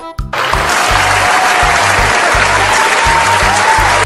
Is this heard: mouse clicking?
no